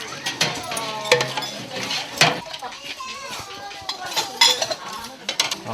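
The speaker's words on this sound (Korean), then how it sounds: "세제는 거의 쓰지 않고 물과 솔로만 닦는데요" Dishes being scrubbed with water and a brush and almost no detergent in a communal mountain-village kitchen: clinking bowls, scraping and splashing in irregular bursts, with children's voices chattering over it.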